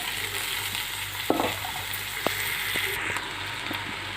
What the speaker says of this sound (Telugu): ఇప్పుడు మనం గోరు చిక్కుళ్ళు వేసేసుకుందాము